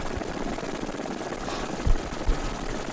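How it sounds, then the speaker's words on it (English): A helicopter comes down in a touchdown autorotation, its steady rotor and engine drone filling the clip at moderate level, with two brief low thumps near the end as it settles onto the ground. "you see the helicopter come down and it sort of just does a little stop"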